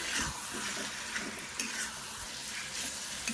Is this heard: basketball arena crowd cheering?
no